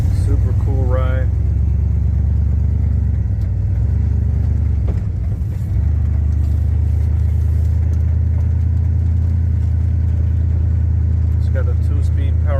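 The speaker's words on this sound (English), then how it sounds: "Driving in the convertible, guys. Super cool ride." A lowrider convertible on the move, fitted with a 2-speed Powerglide transmission, giving a steady, loud, low engine rumble and road noise throughout, with someone speaking briefly over it.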